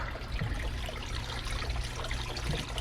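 Water trickles steadily from the bottom of a Marineland Penguin 350 bio-wheel aquarium filter being cleaned and refilled, a soft continuous splashing close by with no talk.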